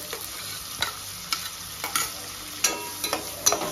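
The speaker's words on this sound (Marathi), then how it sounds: "आता मस्तपैकी फ्राय करून घेऊया" Onion with ginger-garlic paste sizzles in a pan, a steady soft frying hiss broken by repeated sharp clinks and scrapes of a spoon stirring, with no voices.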